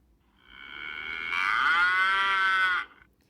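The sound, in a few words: cow mooing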